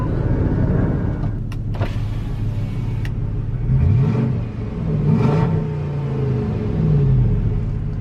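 A used car's engine idles at a dealer-only Manheim auction lot, a steady low rumble running unbroken throughout with no distinct ticking standing out.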